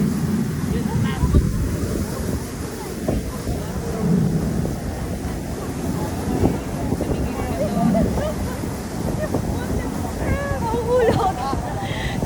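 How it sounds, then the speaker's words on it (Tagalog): Steady strong wind buffets the microphone with a low rumble in Singapore, while people in a crowd talk intermittently in the background. "Sobrang hangin, baka mahulog."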